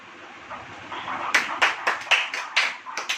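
During a Hindi church sermon, a few people clap in a loose rhythm, roughly eight distinct sharp claps spaced unevenly after a quieter murmuring start, moderately close and not very loud.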